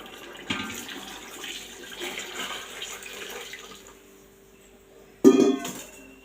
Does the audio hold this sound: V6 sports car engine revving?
no